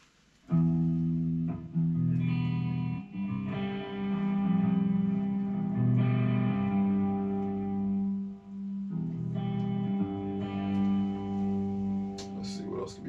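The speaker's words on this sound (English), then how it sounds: "Let's go back to reverb." Sustained electronic tones with a reverb effect applied, each held chord ringing out with a washy tail and smearing into the next, loud and continuous across several phrases.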